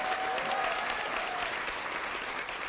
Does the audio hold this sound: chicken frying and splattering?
no